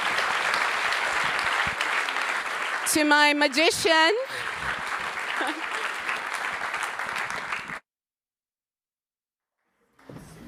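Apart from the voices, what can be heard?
audience applause at an awards ceremony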